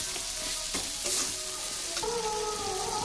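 Turmeric, salt and chili powder frying in oil as the spice paste is stirred for a prawn and young jackfruit curry, a moderate sizzle with occasional scraping strokes and some faint background tones.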